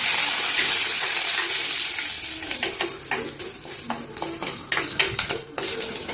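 Green chillies and curry leaves fry in hot oil with popped mustard seeds for a Kerala-style breadfruit curry: a loud, steady, close sizzle with irregular scraping stirs and spatters throughout.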